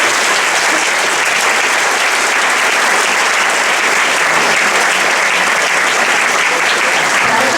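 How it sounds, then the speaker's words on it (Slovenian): Loud, dense applause from a school audience at a choir concert, steady and continuous throughout with no pauses, the clapping heard up close with no talk. "verjetno majhen aplavz"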